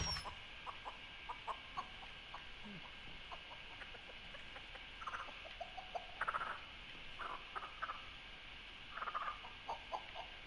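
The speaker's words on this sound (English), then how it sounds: "The game's composer, Ross Tregenza, used real chickens for the audio for Nugget." Real chickens recorded for a hen character in the Texas Chainsaw Massacre video game, soft scattered clucks and short throaty calls repeating irregularly over a steady hiss, heard faintly with no talk.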